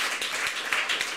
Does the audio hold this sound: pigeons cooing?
no